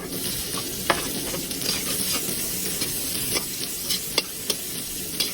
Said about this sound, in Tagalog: gisa lang natin na maigi, medyo i-brownish lang natin ng konti